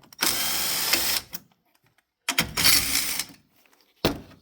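Power tool spinning out battery mount bolts on a 2013 Nissan Rogue, three loud close bursts of whirring and ratcheting separated by short pauses.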